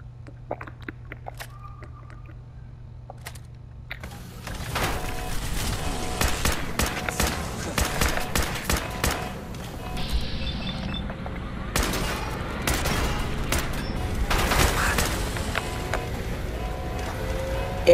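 Dense bursts of gunfire from the Fallout 4 video game, a rapid cluster of shots near the start followed by sustained loud volleys and explosions with rumbling low end, layered thickly over a continuous combat din.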